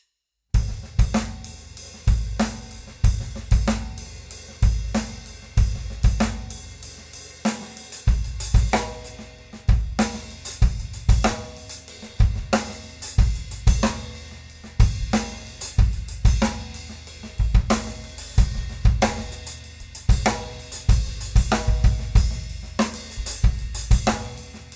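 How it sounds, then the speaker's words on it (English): A drum kit plays a steady groove with the hi-hat held tight and closed, ghost notes peppered across it and occasional open hi-hat accents, with punchy kick and snare hits repeating evenly and up close throughout. "close the hi-hat nice and tight, and put those same ghost notes on the hi-hat"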